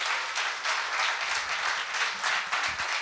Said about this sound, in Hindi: सभी लोग एक मर्तबा जोरदार तालियां बजाकर।